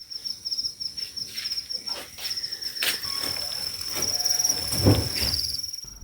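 Crickets on a cricket farm chirp in a dense, steady high-pitched trill throughout, fairly close, with scattered knocks and rustling handling noises mixed in.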